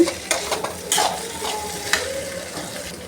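Potatoes sizzle and crackle in a pan while a utensil scrapes and stirs them in a few quick strokes, close by.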